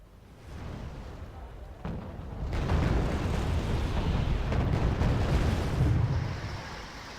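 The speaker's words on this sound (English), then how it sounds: "your artillery's firing again" Artillery fires in the strategy video game Wargame Red Dragon: a dense, rumbling barrage of booms and blasts that swells and holds loud for several seconds, with no speech over it.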